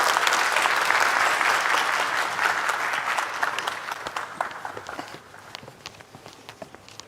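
An audience at a Korean public lecture breaks into enthusiastic applause to welcome the speaker, loud and dense at first, then thinning into scattered individual claps as it tapers off.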